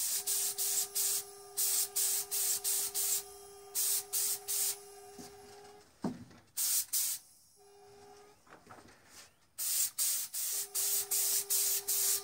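A spray gun painting the body of a Telecaster guitar built from a cheap DIY kit lets out repeated short hissing bursts in uneven groups, loud and close, with a steady mechanical hum between the blasts.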